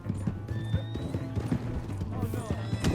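A horse in Red Dead Redemption 2 whinnies and neighs over rhythmic clip-clop hoofbeats, close and loud, with game voices shouting over the action.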